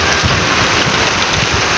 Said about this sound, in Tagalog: at biglang bumuhos nga yung ulan